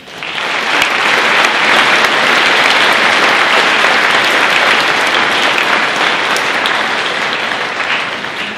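A school audience gives a loud, full round of applause for the writers of a student production, with many hands clapping densely and steadily for several seconds before easing slightly.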